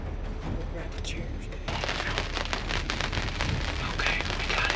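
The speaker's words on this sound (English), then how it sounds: "You can see it's still raining." Steady rain pattering on a hunting blind, a dense close crackle of drops on fabric that grows louder partway through, with a few brief squeaks mixed in.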